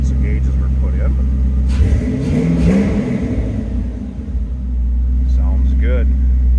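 The fuel-injected engine of a 1932 Ford Model B roadster street rod starts and runs nearby with a deep, loud rumble and a brief rev. Voices talk over it.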